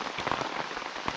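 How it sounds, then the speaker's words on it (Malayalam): Rain falls steadily on a surface, a dense, even patter of drops at moderate volume throughout a short stretch with no voices. "മഴ നിന്നിട്ട് പോരെ?"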